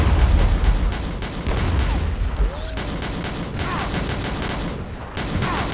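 Rapid gunfire from the shooter game XSHOT rattles in loud, continuous volleys, with a deep boom in the opening seconds and steady shots close up that carry on to the end.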